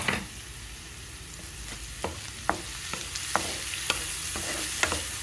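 Green chili and ginger paste fries with onions in a pan, giving a steady soft sizzle. Sharp scraping clicks of stirring come at irregular intervals, and no one speaks.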